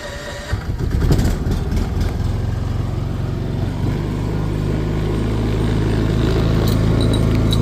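Champion 11,000-watt dual fuel portable generator on propane starting and then running, a loud steady engine drone that settles into an even hum, close by, with no speech.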